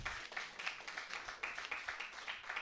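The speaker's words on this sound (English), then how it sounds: "How about a round of applause for Dan Lamort, everybody?" Audience claps for the host at a New York stand-up comedy show, distinct handclaps in a quick uneven rhythm, fairly faint and distant, with no talking over them.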